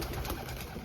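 Racing pigeons cooing inside a loft after returning from club training, a soft continuous murmur of low coos close by with steady background noise.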